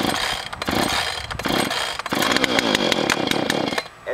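A chainsaw being pull-started with the brake off, loud rough bursts of engine noise as the cord is yanked, sputtering without settling into a steady run.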